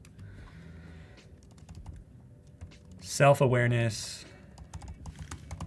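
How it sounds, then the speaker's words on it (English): Typing on a computer keyboard during a business design-software demo: steady close clicking of keys running throughout, with a voice briefly speaking over it in the middle. "I keep typing self-awareness."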